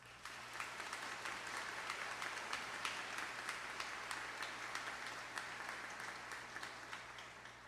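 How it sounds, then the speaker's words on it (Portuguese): A congregation applauds inside a church during a deacon ordination, a dense, steady patter of many hands clapping at moderate distance, sustained evenly for several seconds under a low background hum. "José Gabriel merece nossa salva de palmas."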